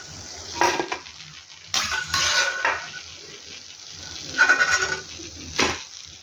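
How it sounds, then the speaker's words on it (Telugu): Snacks deep-frying in oil in an Indian home kitchen, a soft background sizzle broken by a few clanks of a metal utensil against the pan. "అన్నీ చక్కగా ఫ్రై అయిపోయినాయి కదా, మంచి కలర్ వచ్చేసింది"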